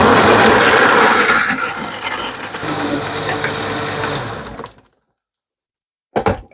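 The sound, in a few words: blender shaking ice cubes for pineapple milkshake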